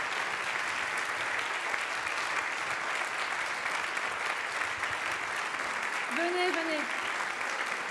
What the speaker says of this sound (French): Vous devez être applaudis comme il se doit.